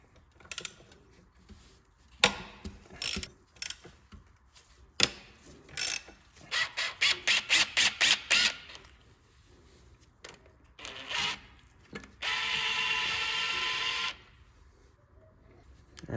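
Ratchet wrench loosening 12 mm bolts on the power steering pump of an Acura RSX race car engine, with close rapid clicking runs, a few clanks and a longer steady whir near the end.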